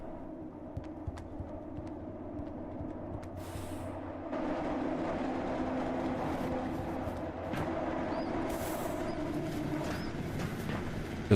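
A train in a video game under development rolls along with a steady low rumble and broadband hiss that grows a little louder partway through, with a few faint clanks and squeals and no voices.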